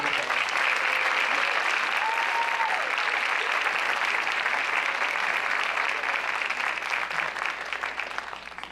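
Sustained applause from an audience for cum laude graduates at a 2022 academic awards ceremony, loud and even for the whole stretch, easing slightly toward the end; no one speaks.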